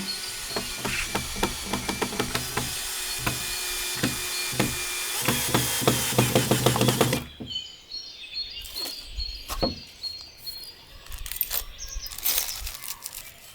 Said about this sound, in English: I pre-drill a hole to prevent the wood from splitting and then I screw the planks together